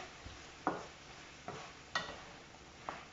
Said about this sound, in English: So at this time I want to add all the sweet pepper, and you want to stir everything together.